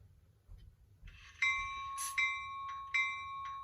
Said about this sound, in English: Next, we're going to do the bell.